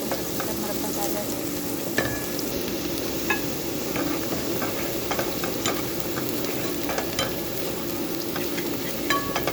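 Onions sautéing in a pan for a pasta sauce give a steady, close sizzle, broken by occasional clicks and scrapes of stirring throughout.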